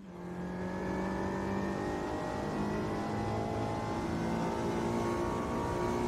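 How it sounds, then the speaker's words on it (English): A race car engine in a driving game revs steadily up to its limit, a loud, continuous rising drone with strong harmonics that holds near the top with no voices. "maxing out the RPM in each gear and lifting your foot off the throttle to get a reading"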